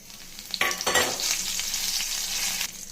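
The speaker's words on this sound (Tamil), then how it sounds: "ஒரு காஞ்ச மிளகா, கொஞ்சம் கருவேப்பிலை ஆட் பண்ணிக்கோங்க." A South Indian tempering of asafoetida, a dried red chili and curry leaves crackles and sizzles in hot oil. A sharp burst of spattering comes at the start, then a steady close frying hiss.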